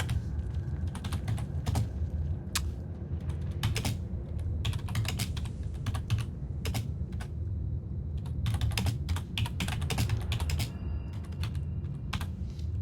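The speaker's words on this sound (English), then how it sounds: "I'm such a slow typer." A computer keyboard typed on at a slow, uneven pace, with clusters of close, crisp key clicks separated by short pauses over a low background hum, and no talking.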